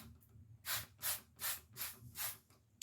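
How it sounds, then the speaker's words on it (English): Clorox mold and mildew remover sprayed from a trigger bottle onto a surface from about six to eight inches away, five close, crisp hissing bursts in an even rhythm with short pauses between, no talking. "you can go ahead and spray it on"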